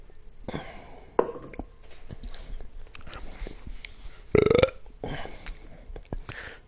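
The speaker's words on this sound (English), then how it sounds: "I didn't mean to belch." A single loud burp erupts partway through, while a snooker game on PS4 plays with commentary in the background.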